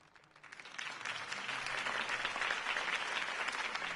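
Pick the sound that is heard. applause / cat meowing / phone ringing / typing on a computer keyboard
applause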